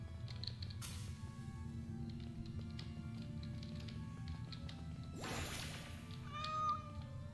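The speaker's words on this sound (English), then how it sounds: "I hear a cat." A tiny cat meows a few times, faint and somewhat distant over a low steady hum, with a brief clatter and scattered light taps around it.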